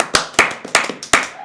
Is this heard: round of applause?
yes